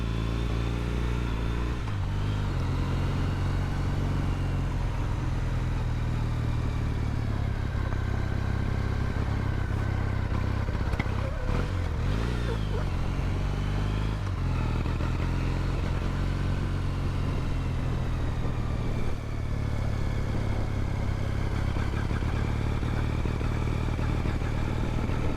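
A Triumph motorcycle engine idles on choke while still warming up, a steady close-up rumble holding for the whole stretch with a brief blip of revs and some light clatter partway through.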